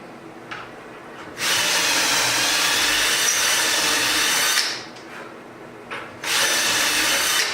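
A power drill bores holes for drawer pulls through a Kreg cabinet hardware jig in wood: one sustained three-second whir, a pause with small clicks, then a second burst of drilling.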